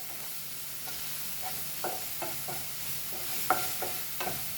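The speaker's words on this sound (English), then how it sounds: "So I'll go chilies over here and we'll fry this also" Chilies frying in a pan for a Goan egg omelette and egg burji, with a steady hiss of oil and scattered light stirring clicks and scrapes throughout.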